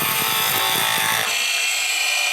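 A skew chisel shaves wood spinning on a lathe, giving a loud, continuous rushing hiss with low rumbling texture. Partway through, the lower rumble drops away and a thinner, steady whir carries on.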